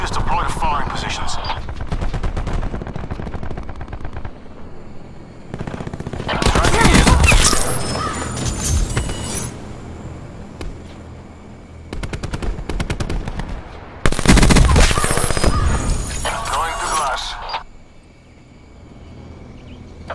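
Gunfire in the video game Call of Duty: Black Ops 4 comes as loud bursts of automatic weapon fire that alternate with quieter stretches. A game announcer's voice and other game sounds fill the gaps between bursts.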